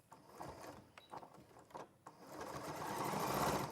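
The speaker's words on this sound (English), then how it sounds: "as you sew around the curved corners, you're going to have to slow down" A sewing machine runs in short bursts with pauses, stitching fabric around a curved corner of a bag, then settles into a longer, steadier whir toward the end, close and alone.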